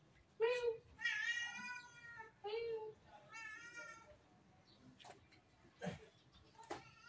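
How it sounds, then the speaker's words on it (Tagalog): A domestic house cat meows several times close by. The drawn-out, rising calls come in a loose series, then give way to a few sharp clicks and knocks near the end. "So, ito yung pusa ko."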